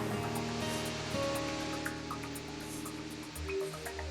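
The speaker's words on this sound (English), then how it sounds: "A vertical waterfall almost 50 meters high." A vertical waterfall almost 50 meters high on Reunion Island thunders as a dense, constant roar, with low droning tones running underneath and no voices.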